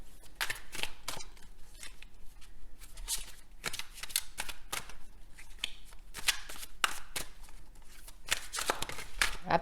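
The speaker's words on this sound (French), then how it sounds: "Je vais vous retirer une petite carte supplémentaire" Tarot cards handled and shuffled close up, with a run of crisp flicking riffles and slapping card sounds in quick irregular bursts, fairly quiet and with no talk over them.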